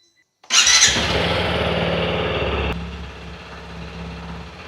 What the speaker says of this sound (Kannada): ಸೊ ಒಂದು ಸತಿ ಬೈಕ್ನ ಸ್ಟಾರ್ಟ್ ಮಾಡಿನೂ ಚೆಕ್ ಮಾಡಿ ನೋಡ್ತೀನಿ